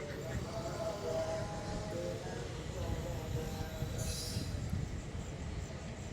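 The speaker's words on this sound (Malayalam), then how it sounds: "അതുവഴി ഒരു ട്രെയിൻ പാസ് ചെയ്ത് പോയപ്പോൾ ഒന്ന് നിങ്ങളെ കാണിക്കണമെന്ന് തോന്നി" A train runs past a railway track near Vellayani, giving a steady loud rumble of wagons with a brief wheel squeal partway through, and no speech over it.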